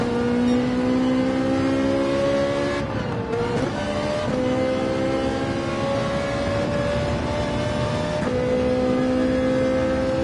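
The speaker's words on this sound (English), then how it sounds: "Got to get used to revving out the Ferrari 458, unlike the AMG." Ferrari 458 engine in Gran Turismo 7 revving hard throughout, a loud sustained whine that climbs and drops with gear changes, including one dip near the third second, with no voices over it.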